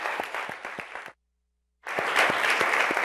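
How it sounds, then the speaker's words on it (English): An audience at a high school mock trial state championship applauds for volunteers in two loud bursts of dense clapping, broken by a brief silent gap. "if we could give a round of applause for all of the volunteers that have helped with this program right now"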